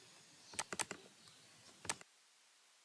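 Several quick, crisp keystrokes on a computer keyboard while an Excel formula is entered, a brief flurry of close clicks followed by a pause, another tap and a final single key press.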